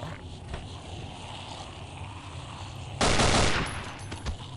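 Gunshots in the horror game Afraid of Monsters: one loud burst lands partway through over a steady, murky game-ambience background, with fainter thuds before and after.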